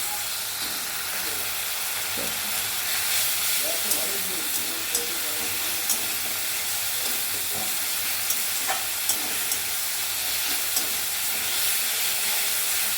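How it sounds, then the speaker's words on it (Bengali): Ground spices fry in a hot pan for mutton curry, giving a continuous loud hiss and sizzle with occasional light taps of a stirring spoon. "দিয়ে ভালো করে কষাবো মশলাটাকে"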